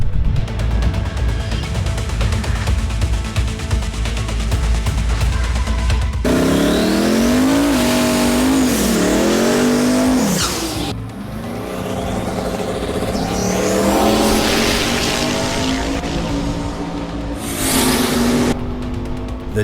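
A drag race car launches and accelerates hard down the track, its engine roaring loud and close with rising revs through several gear changes, then fading and building again.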